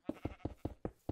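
Sheep bleating in Minecraft, six short, evenly spaced baas in quick succession, close and fairly quiet with nothing else around them.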